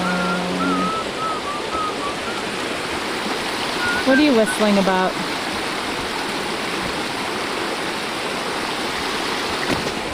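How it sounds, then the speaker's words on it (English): A stream runs below a waterfall on a summer trip in the American Southwest, a steady loud rush of flowing water throughout, with a voice speaking briefly and a short whistle over it. "The falls must be way up there somewhere, but this is some of the water."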